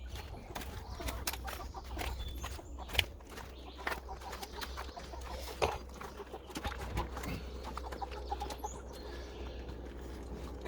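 Cornish Cross meat-bird roosters are caught by hand amid a flurry of wing flaps, clucks and scuffling in the coop, with scattered sharp thumps and rustling over a low steady background.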